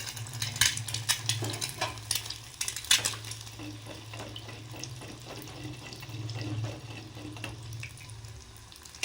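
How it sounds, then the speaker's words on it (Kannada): Egg white being stirred into hot oil in a pan, with soft scraping and bubbling sizzle throughout, a steady low hum beneath, and a few sharper clinks of the utensil against the pan. "ಸೊ ಎಗ್ ವೈಟ್ನ ಮಿಕ್ಸ್ ಮಾಡ್ತಾಯಿದ್ದೀನಿ"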